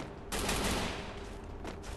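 Gunfire in the video game Free Fire: a dense burst of rapid shots blasts loudly for over a second, then eases off, followed by a shorter second burst near the end, with no speech.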